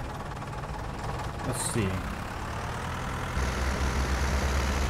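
A small old tractor in a farming video game idles with a low, steady chugging that grows more prominent toward the end, while a voice speaks briefly over it.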